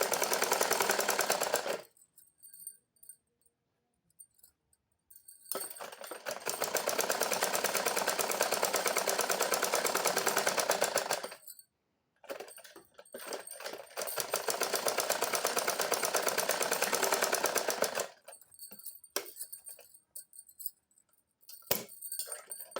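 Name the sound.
sewing machine stitching a blouse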